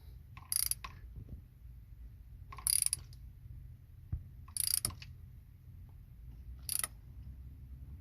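A ratchet wrench tightening a spark plug on a Yamaha jet boat engine, heard as four short, sharp ratcheting bursts spaced about two seconds apart, close and clear against a low background rumble.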